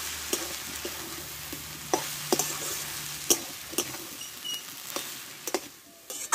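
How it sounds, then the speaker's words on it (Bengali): Potatoes and water spinach being stirred in a pan after salting, with a soft steady sizzle under repeated scraping clicks of the spatula, moderately close and without talk. "লবণটা দিয়ে ভালো করে নাড়াচাড়া করে নেব।"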